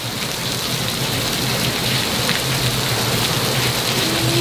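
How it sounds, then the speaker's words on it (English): Heavy rain pours down hard and steady during a severe thunderstorm, a loud, continuous close hiss of water striking surfaces, with low rumbling thunder mixed into the roar. "See how bad the rain's coming down? Oh, listen to that, you guys."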